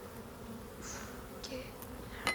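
A low, steady hum of honey bees swarming over a hive frame, with a few bees zipping past close by and a sharp click near the end, no voices.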